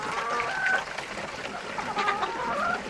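A lone hen named Millie clucks in a chicken coop on a cold day, giving a few soft, faint clucks and brief tonal calls over a quiet background.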